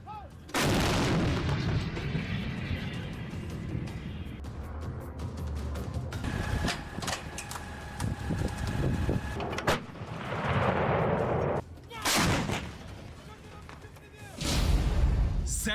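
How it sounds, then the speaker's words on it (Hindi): A French CAESAR self-propelled artillery gun fires several heavy booming shots separated by rumbling echoes and mechanical clatter, with loud blasts near the start and the end. "फ्रेंच तोप सीजर।"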